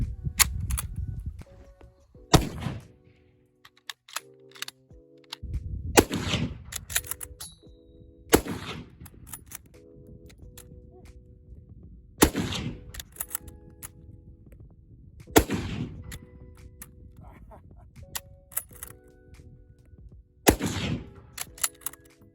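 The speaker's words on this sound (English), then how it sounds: "Anyways, enough about the history of the gun. Let's get to shooting it." Mosin Nagant rifle fires about seven single sharp cracks, spaced a few seconds apart, each with a short tail, interleaved with quieter metallic bolt clatter and handling noise.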